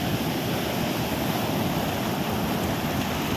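Sea waves rise high onto the rocks at Porbandar beach, giving a loud, steady, broadband wash of surf with rumbling low tones and wind-like hiss, and no voices.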